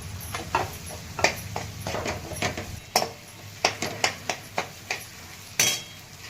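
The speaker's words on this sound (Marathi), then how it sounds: "आता ह्यानंतर आपण हे सगळे पदार्थ केलेत ना ते आता परतून घ्यायचे" Eggplant, turmeric and spices for Maharashtrian khengat are tossed in oil, with a spoon repeatedly scraping and clinking against the pan in sharp irregular knocks over a faint, quiet background.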